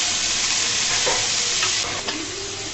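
Shrimp frying in a little oil with salt, a loud, dense, continuous sizzle close up with a few faint clinks of stirring and no talking.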